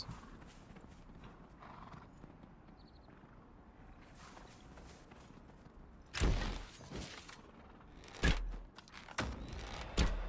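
Goats in Dragon Age: Inquisition give horse-like sounds: a few loud hoof-like thumps and snorting bursts stand out over a steady outdoor ambience with faint hooves, coming close in the second half.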